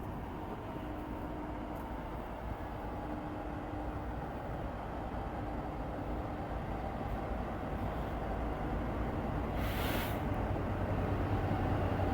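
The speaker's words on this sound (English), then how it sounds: "watching these trains go by." A freight train rumbles past at a distance in northern Arizona, a steady low roar with a faint hiss rising near the end and no voices.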